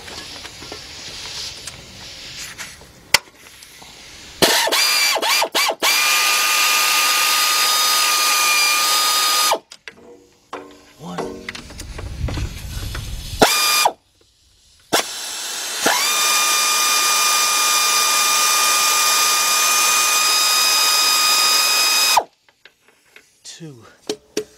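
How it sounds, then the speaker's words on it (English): Air ratchet with a 15 mm shallow socket removing engine bolts on a 2003 Jeep Liberty Sport 3.7 during a partial rebuild, two long loud whirring runs with clicks and clanks between them. "get my air ratchet here, and I'm using a 15 millimeter shallow. Get up there, take them bolts out."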